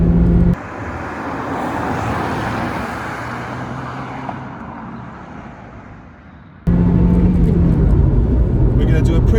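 Fiat Punto Active Sport climbing a bypass at speed, steady engine and road roar from inside the cabin, loud throughout, with a voice talking over it.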